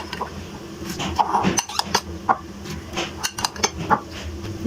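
An egg is mixed into a bowl of pakora batter, with clinking utensil taps and scraping against the bowl in an irregular run of close, moderately loud strikes.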